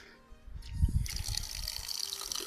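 Water pours steadily from an outdoor tap, a broadband splashing rush that starts softly and then runs continuously, close by.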